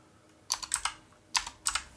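Keys tapped on a computer keyboard while entering router login and configuration commands, two short bursts of three or four clicks each, close and fairly quiet with no talking.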